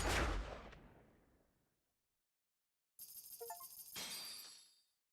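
A single loud gunshot in the Yakuza 7 video game bursts out and decays into silence, then a clattering, metallic shattering sequence follows with a bright ringing tail.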